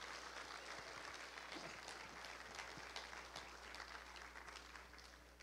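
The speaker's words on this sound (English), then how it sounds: "I believe all these young people deserve another round of applause" Audience applause after a Christian academy school spring concert, a steady even wash of clapping heard faintly at a distance over a constant low hum, with no break.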